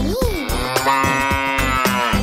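A calf moos once, loud and close, at the start of a Tamil children's rhyme, followed by a steady sung and instrumental accompaniment.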